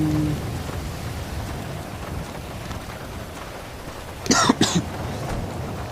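Rain falls steadily in GTA V, a constant soft wash of hiss, broken near the end by a brief louder burst of sound.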